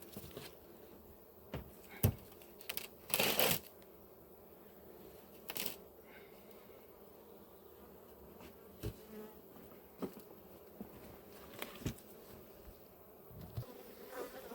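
Honeybees buzz around an opened hive in an apiary during the shaking out of a drone-laying colony, a faint steady drone broken by sharp clicks and knocks of hive frames and boxes.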